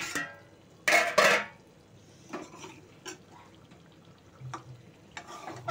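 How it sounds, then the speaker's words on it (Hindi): Kaleji salan curry frying in a pan, soft sizzling with sharp clinks and scrapes of a spoon stirring against the pan, two loud scrapes early and lighter taps after. "ये अपना सालन भुन रहा है अभी।"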